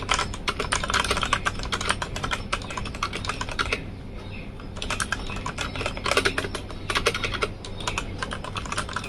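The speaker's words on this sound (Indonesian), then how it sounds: "silakan kalian dengarkan suara tombol keyboard Texware ini. Renyah banget pokoknya." Fast, dense typing on a Tecware gaming keyboard from a 3-in-1 gaming bundle, crisp close clicks in continuous bursts with a short pause midway, no voices.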